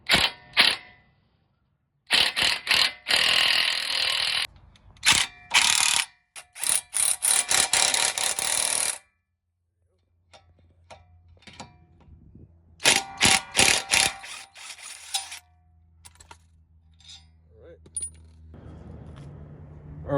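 Ratchet clicks in quick bursts while an oversized nut is run down to draw a new wheel stud into a 2006-2011 Honda Civic hub, metallic and close, separated by short pauses and light handling noises.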